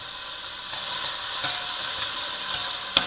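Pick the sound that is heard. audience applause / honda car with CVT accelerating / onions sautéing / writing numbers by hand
onions sautéing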